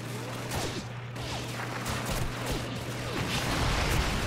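Rifle shots and gunfire in Call of Duty 2 during a British campaign battle at Caen, rapid scattered cracks and bursts over a steady low hum, busy and loud throughout.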